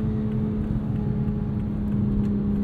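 A 2021 Toyota Supra 3.0 with an inline six is driven around corners, giving a steady, smooth engine hum with a sustained tone and road noise inside the cabin, close and moderately loud, with no talking.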